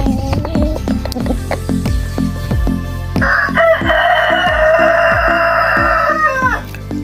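On a poultry farm with about fifty birds, a rooster lets out a loud, close crow that lasts a few seconds, over a steady run of hens clucking all around.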